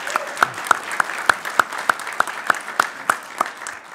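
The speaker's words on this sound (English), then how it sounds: "a round of applause here" Applause for a departing official at a National Press Club event comes as crisp, evenly spaced claps about three per second, sparse and close, as if from only a few pairs of hands.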